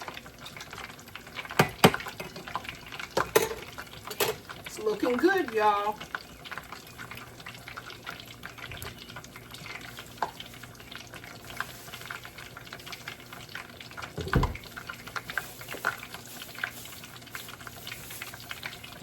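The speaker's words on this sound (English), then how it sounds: "I use peanut oil for frying, but you can use whatever oil you like." Battered chicken fries in peanut oil, a homemade take on McDonald's chicken, with a steady low sizzle and crackle running beneath a person talking and some stirring and clatter.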